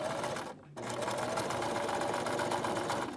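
A sewing machine stitches a fabric face mask in a fast, continuous whirring run, briefly pausing before resuming, moderately close and fairly quiet.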